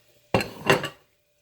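Shrimp go into a pan of reduced garlic butter stock. Two quick clattering knocks land close together against the pan, then quiet.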